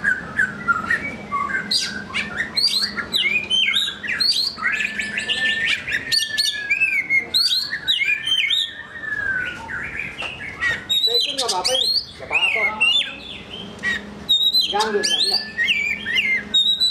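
Lively kacer songbird chirps and whistled trills repeat in quick bursts with short pauses between, fairly close and clear over a faint background.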